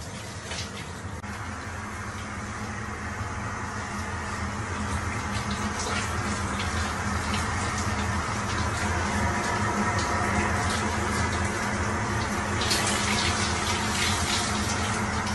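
A shower runs in a cramped airplane bathroom, a steady hiss of spraying water over a low cabin engine hum, continuous and close, with no talking.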